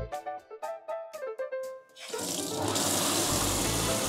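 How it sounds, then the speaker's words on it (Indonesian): A string of short electronic beeps gives way to a loud, rushing gush as a water tap on a pump-fed system with a pressure control is opened and water pours steadily. "saat pompa pertama kali dihidupkan atau keran pertama kali kita buka"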